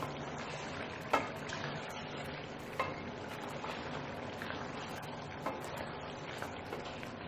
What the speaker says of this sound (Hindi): इसके अंदर थोड़ा सा गरम मसाला ऐड करें और मज़ीद इसे 1 से 2 मिनट भूनें